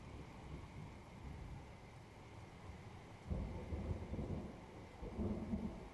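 Rain falls with rolling thunder in the video game Train Sim World 4 on PS5, a steady wash of rain with low rumbles swelling twice toward the end.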